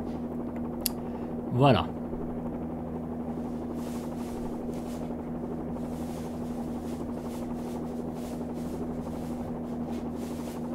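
Bell 47G-2A1 helicopter landing at Rotor Creek in X-Plane 11, a steady simulated rotor and engine hum droning evenly throughout, with a brief spoken word over it.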